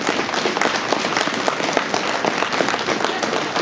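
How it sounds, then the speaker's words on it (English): An audience claps steadily for Tim, a dense, loud and continuous round of applause with no voices over it. "let's give a big round of applause for Tim"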